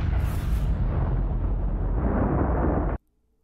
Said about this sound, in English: And then the CIA blows them up with a missile.